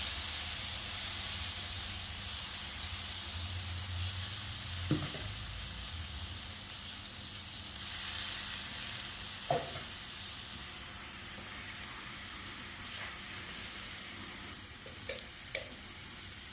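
Ground tomato puree added to a hot pan with ginger-garlic paste for a cauliflower white kurma, giving a loud, steady hissing sizzle with a few brief stirring clinks over it.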